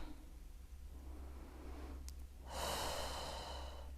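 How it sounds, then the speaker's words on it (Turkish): Slow, deep breathing by a pregnant woman doing prenatal wall pilates, soft close inhales followed by a louder, airy exhale, heard alone without talk. "Nefes al. Ver. Al. Ver."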